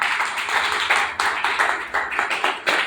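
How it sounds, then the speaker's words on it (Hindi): Audience clapping at a Safe Shop business plan seminar, a dense burst of hand claps with sharp surges and accents throughout, loud and close, without talk. "इसी के लिए एक बहुत जोरदार तालियां।"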